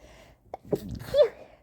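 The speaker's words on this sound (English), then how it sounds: "I have tiny little baby sneezes" A woman lets out a small, quiet sneeze, a short soft burst with light breathy sounds around it, close and isolated against near silence.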